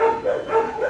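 A shelter dog barks and yips in a row of kennels, a few loud, close, pitched calls repeating through the short moment with no talk over them.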